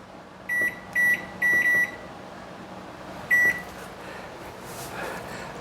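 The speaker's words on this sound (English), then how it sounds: "Set the timer here." A kitchen oven timer being set beeps in short steady tones, four quick electronic beeps close together, then a single beep after a pause, clear and close with no talking.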